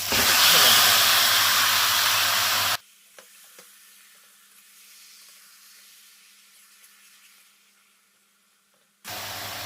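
Marinated mutton sizzles and hisses loudly in a pan of cooked-down spices for a curry with papaya and potato. The frying cuts to near silence, then returns abruptly.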